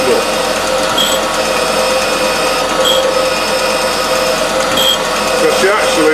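An old surface grinder working steel blocks for a Dickson tool holder, giving a continuous, loud whining hum with a high steady tone and faint periodic swishes as the table passes.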